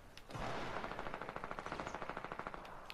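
Rapid automatic gunfire in the Fortnite video game, a fast regular burst of sharp shots lasting a few seconds, fairly faint and with no talking over it.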